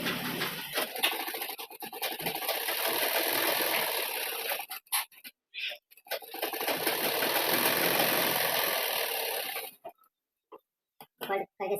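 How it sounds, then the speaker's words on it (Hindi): Sewing machine stitching folded cloth for a beaded full-sleeve design, running in steady whirring bursts with short pauses between runs of stitching. "इसको इस तरह से फोल्ड करके सिलाई लगा लेना है"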